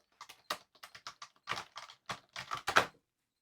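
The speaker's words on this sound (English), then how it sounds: "Now we just gotta type on it." Typing on a laptop keyboard fitted with new universal key stickers: a quick run of distinct close taps in short bursts, some clicks doubled or clustered, with no talking.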